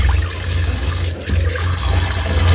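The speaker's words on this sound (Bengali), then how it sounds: "চলো প্রথমেই তার জন্য পাঙ্গাস মাছগুলোকে ভালো করে ধুয়ে পরিষ্কার করে নিই।" Raw pangas fish being washed under a steady stream of running tap water, a continuous loud splashing and trickling throughout with one brief dip midway, no voices.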